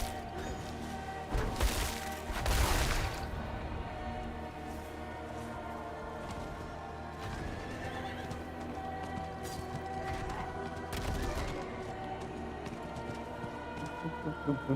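Horse hooves galloping in Diablo 4, a steady clip-clop running under continuous game music and effects, with a couple of louder crashing impacts along the way.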